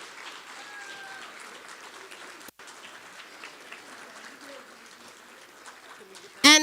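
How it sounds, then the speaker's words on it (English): An audience at a Royal Rangers and Girls Club awards night gives a steady round of applause for the girls club leaders, with voices murmuring underneath and a sharp loud burst right at the end. "I really would love if you guys can give them a round of applause for all their work and"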